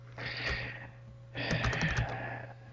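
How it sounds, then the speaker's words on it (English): Fast typing on a computer keyboard in two short bursts of clicky keystrokes close by, separated by a brief pause, with a faint steady hum underneath. "I think I could probably even type this faster"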